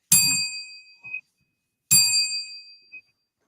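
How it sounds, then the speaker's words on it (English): A ceremonial bell salute for a fallen brother rings out in two loud, clear metallic dings about two seconds apart, each decaying slowly with a faint rattle, with no talking over them. "We give them 3 bell salute for the brother."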